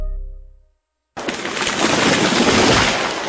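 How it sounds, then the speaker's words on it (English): A tree comes crashing down, a sudden loud burst of cracking and splintering that starts after a brief quiet and rushes on as a sustained, dense roar of breaking wood and branches to the end. "That was the sound of a tree falling."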